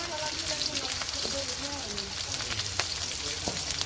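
Eggplant curry frying in a pan in a Bangladeshi village kitchen gives a constant, dense sizzle, with faint voices talking underneath.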